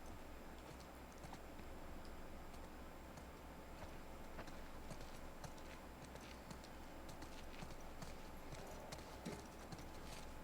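Horse hooves clip-clop steadily in The Last of Us Part II, a continuous rhythmic patter of walking steps over a low constant ambient hum, moderately loud throughout.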